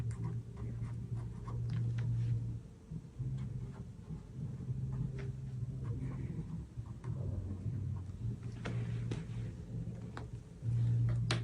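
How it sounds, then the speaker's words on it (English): A pen scratches steadily across an exam answer sheet for an IUT entrance examination, close and continuous with small ticks and strokes over a low background hum. "use the black pen and make sure you fill out the down part of your examination paper right here"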